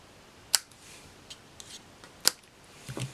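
Scissors snip ribbon bow tails on a Thanksgiving card, two crisp close cuts spaced well apart amid faint paper handling and a soft rustle at the end.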